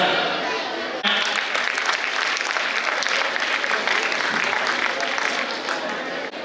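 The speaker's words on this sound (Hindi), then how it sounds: "जोरदार तालियां।" Loud audience applause at an Islamic quiz contest event, breaking out abruptly after a second and continuing as dense, steady clapping from many hands until the end.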